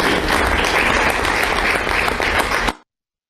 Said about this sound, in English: We should give a round of applause to Pepper and the students.